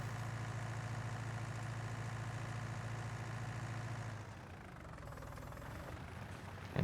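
Tractor engine idling in Farming Simulator 19, a steady low diesel rumble that holds evenly, then drops in tone and settles into a lighter idle near the end.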